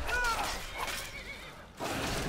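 A horse neighing in the video game Skyrim, a short loud whinny up close over battle noise, followed by a brief pause and more clatter.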